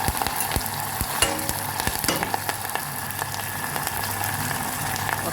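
Curry leaves and dried red chillies fry in hot oil with a loud, dense crackling sizzle, sharp spitting pops scattered throughout, heard close and alone with no voices.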